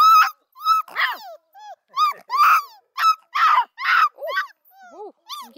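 Coonhound puppies give a close, loud series of high whimpers, whines and yelping cries in quick bursts, with a few rougher growly notes mixed in among them.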